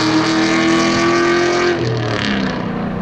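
A Chevrolet Corvette accelerates hard past on a road, a loud close engine roar with a rising whine that fades as it moves away over about three seconds.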